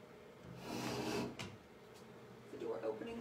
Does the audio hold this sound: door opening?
yes